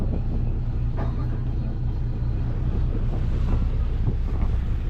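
Steady wind rushes across the microphone over the low rumble of a barge moving through the sea, with waves washing continuously.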